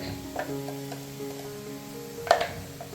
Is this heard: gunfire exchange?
no